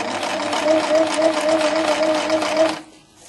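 A sewing machine runs in one steady, fast burst of stitching along a seam in silk satin shirt fabric, humming close up, then stops abruptly near the end.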